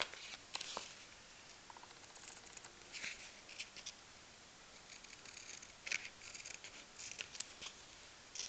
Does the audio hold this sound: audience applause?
no